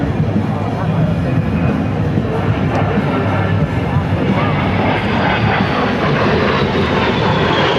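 An A-10 Thunderbolt II jet performs at a 2009 joint-services open house air demonstration, its engines producing a loud, continuous roar throughout, with an announcer's voice beneath it.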